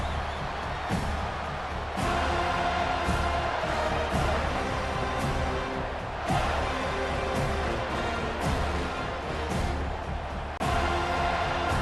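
Stadium crowd roaring steadily during a College Football 25 video game simulation of Clemson versus Florida State, a dense continuous wash of cheering with several sharper swells, loud and alone without talk.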